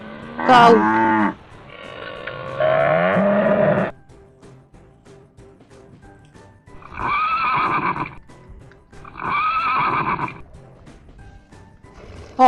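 A cow lowing in a farm setting, with long drawn moos repeated at intervals, loud and near, each call full and throaty with pauses of quiet between them.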